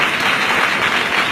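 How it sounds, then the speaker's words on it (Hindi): Sustained applause from a crowd of students at a university convocation ceremony, steady and energetic, filling the whole moment without a break. "सभी छात्र छात्राएं उनके लिए और जोरदार तालियां बजा दीजिए"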